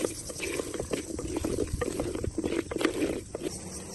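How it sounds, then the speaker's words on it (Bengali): Large beef and potato pieces frying in hot ghee for Peshawari beef, giving a steady close crackling sizzle with dense popping that runs evenly throughout. "এখন ঘিয়ের মধ্যে দিয়ে দিচ্ছি বড় বড় টুকরো করা আলু আর গরুর মাংস।"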